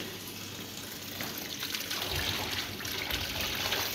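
Hot water being poured over chicken to soak and thaw it, a steady trickling and splashing stream that swells louder midway and continues without talk.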